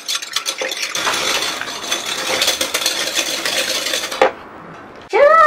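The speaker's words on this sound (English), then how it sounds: "So we have to continue whisk. We try to melt the sugar." Continuous whisking of a keto peanut butter fudge mixture in a pan while the sugar melts, a busy scraping, clinking rhythm that stops abruptly, followed by a short ringing metallic tap.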